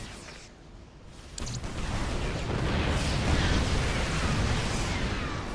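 Siege tank explosions in StarCraft II: Wings of Liberty, a dense roaring wash of blasts that swells after a quieter start and holds steady and loud.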